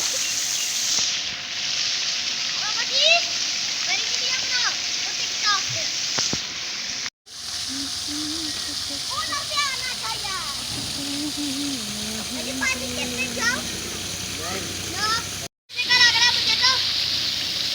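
Children splash in an outdoor swimming pool at a park, a steady wash of water and sloshing running throughout, with kids' voices and adult talk mixed in at moderate distance.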